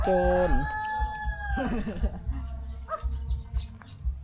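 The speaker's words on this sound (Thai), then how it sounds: "ไก่มา" Rooster crows loudly and close at the start, followed by chickens clucking and squawking in a rural village yard while people talk nearby.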